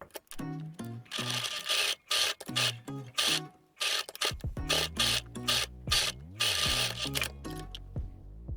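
A sewing machine stitches the chin seam of a summer mask made from cool towel fabric, giving close, fairly quiet bursts of rapid mechanical chatter separated by short pauses.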